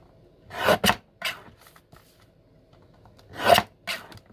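Scissors trim the edge of a paper wine flyer being made into a small journal, producing a few short scraping, rasping cuts up close with pauses between them.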